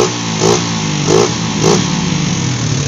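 Smoking motorcycle engine with worn cylinder block, three quick throttle blips rising and falling over a loud steady idle, close to the microphone.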